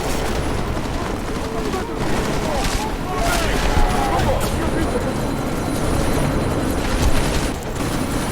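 Chopper rotor thrumming in Deus Ex: Mankind Divided amid a sandstorm, a steady loud whir with bursts of gunfire, under speech.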